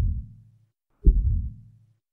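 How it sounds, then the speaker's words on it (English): In RuneScape, the single-ping scan clue alert sounds as a low, dull pulse. It plays twice, about a second apart, and each pulse fades out smoothly. "The first level is what we call single ping, and it sounds like this."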